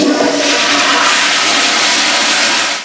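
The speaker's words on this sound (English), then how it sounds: "so I'm gonna flush this" A toilet flushes in a college dorm bathroom, a loud, close rush of water that fills the whole three seconds and tails off slightly at the end, with no voices.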